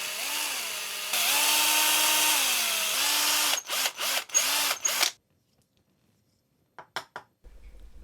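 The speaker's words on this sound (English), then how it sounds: "I'm gonna go ahead and drill some eye sockets for it for some oversized frog eyes." Power drill boring eye sockets into a handmade wooden fishing lure, a steady whine with pitch dips as the bit bites, then several short bursts and a stop, followed by faint handling clicks.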